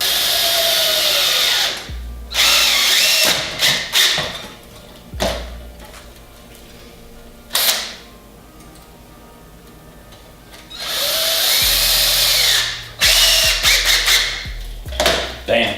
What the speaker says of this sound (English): get your screw, get your drill.